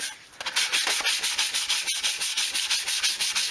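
A sanding block rubs back and forth over body filler on a guitar body being prepped for metal-flake paint, giving steady, close, rhythmic scraping strokes with no voices.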